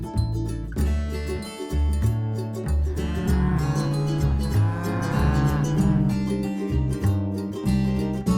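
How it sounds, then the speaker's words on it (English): An Ongole cow, an Indian zebu breed of domestic cattle with a distinctive hump, moos in long, loud, drawn-out calls over several seconds. "cow of India is a breed of zebu, a form of domestic cattle known for its distinctive hump"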